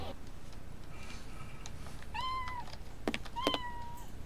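A cat meows twice in a Sherlock Holmes video game, two short rising-falling cries a second apart over a steady background hum, with a faint tap between them.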